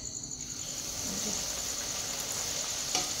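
Luchi frying in hot oil gives a steady, close hiss of sizzling that runs unbroken for a few seconds with no talking.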